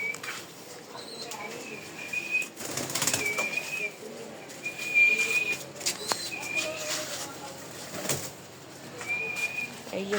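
Pet pigeons kept as gifts flap their wings in sharp bursts and coo softly nearby, with chirps and light background noise throughout.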